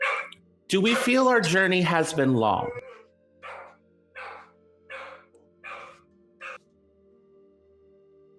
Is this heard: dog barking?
yes